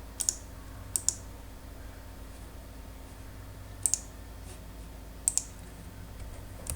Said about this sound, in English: I'm writing one code.